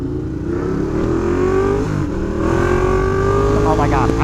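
A Ducati motorcycle accelerates hard nearby, its engine note climbing steadily in pitch with a rising, strained roar, and a voice is heard over the engine.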